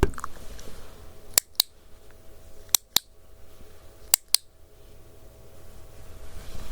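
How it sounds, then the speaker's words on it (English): Sharp, crisp clicks in a quiet ASMR hearing test, arriving in three close pairs spaced evenly apart against a faint hushed background. "How many clicks?"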